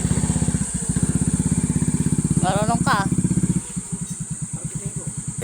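A motorcycle carrying a rider and passenger chugs with a steady, close engine pulse that slows and softens near the end, while people talk briefly over it.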